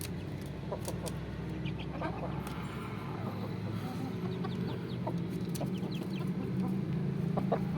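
A newly bought rooster and hen squabble, giving scattered clucks and short sharp calls over a constant low rumble of background noise.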